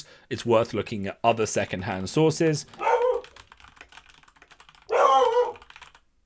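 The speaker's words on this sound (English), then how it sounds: "Sorry, that's the dog." A dog barks a couple of times in the background while a person talks about painting Warhammer miniatures, the short barks falling in pauses between speech.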